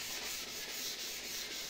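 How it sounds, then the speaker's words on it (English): Steady, dry rubbing of 320 grit sandpaper leveling a cured cement and epoxy resin surface, a continuous close scratchy hiss with a soft back-and-forth pulse and no voices. "I start by sanding with 320 grit sandpaper"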